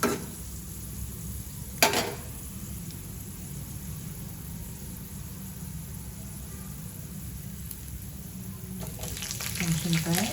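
Vegetables and mustard seeds sautéing in a pan for vegetable chitranna, a steady low sizzle and hiss throughout with a brief clink of a utensil and light stirring near the end.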